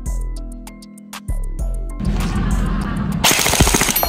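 An M416 gel blaster toy gun fires a rapid burst at beer cans, loud close shots cracking in quick succession after a few tonal beeps.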